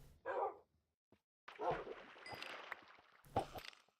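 Minecraft dogs whimpering and yipping in three short bursts, the middle one longest, quiet and close with nothing else heard.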